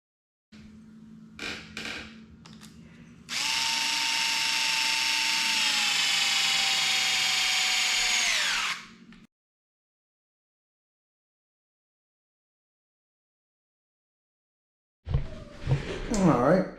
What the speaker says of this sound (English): Now I'm gonna put in this bumper underneath. Just gonna screw these in, get it all tied in